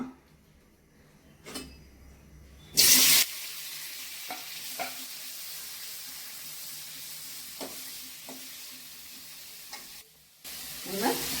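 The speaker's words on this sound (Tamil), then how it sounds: "இந்த மாதிரி கொஞ்சமா எண்ணெய் ஊத்தி வதக்கி போடுவேன்" Steady sizzle of vegetables sautéing in a little oil for drumstick-leaf sambar, with occasional soft clinks of a spoon against the pan, no talking.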